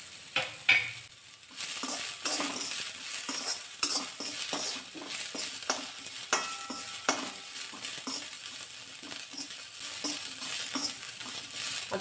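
Onion fries in a pan with white sesame seeds, a steady close sizzle punctuated by frequent scraping stirs and small clicks of the spatula against the pan; no talking.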